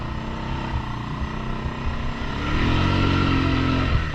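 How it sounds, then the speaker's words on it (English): A Suzuki four-wheeler ATV with big tires revs steadily through a mud hole, its engine loud and close and rising to a stronger, sustained drone partway through. "First mud hole on the Suzuki. See if this thing can spin these big old tires."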